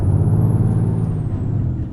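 A Renault truck's engine brake in Euro Truck Simulator 2, a loud, continuous low rumbling roar with a thin high whine that slowly drops in pitch, heard alone over about two seconds.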